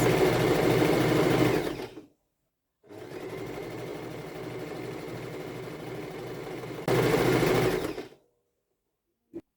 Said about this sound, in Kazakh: Енді осыны машинкада қосып шығамыз. Матаның ұшынан бастап, кәдімгі түзу тігіспен жүргізіп тігіп шығамыз.